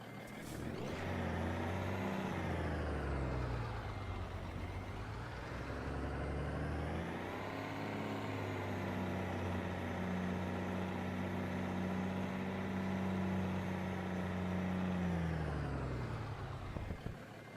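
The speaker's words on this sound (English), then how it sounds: "Let me see what this engine sound like." A truck engine in American Truck Simulator idles and then revs, with a deep, continuous drone that rises and falls in pitch, loud and steady, with no talking over it.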